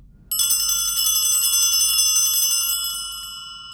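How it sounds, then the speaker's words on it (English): A single bright strike of the old St. Anne's organ bells rings out and sustains with a shimmering metallic tone, slowly fading, heard close and alone. "I also sampled the bells"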